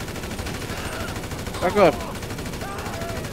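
Gunfire in GTA V Online comes as a single short, loud burst of rapid shots in the middle, set against a steady game background, with a person briefly speaking.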